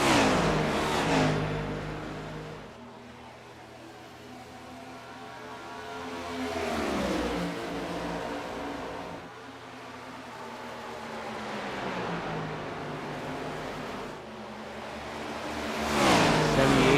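Race cars on a short track during a dirt-track feature race, engines roaring and surging as they pass close by, with loud swells rising and fading over a steady background drone.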